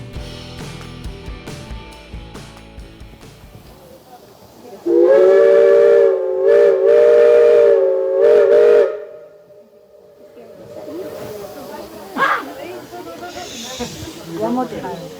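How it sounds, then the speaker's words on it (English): A steam locomotive whistle blasts loud and sustained for about four seconds in Echo Valley, Colorado, with a hiss of steam, then a fainter echo and background voices and crowd noise follow. "It's said that you can hear that whistle for 10 miles on a clear day."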